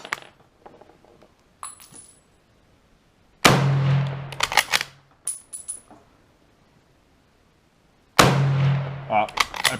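A 1918 Rock Island 1903 rifle fires two booming .30-06 shots several seconds apart, with metallic clicks and clinks of the bolt action being worked between them.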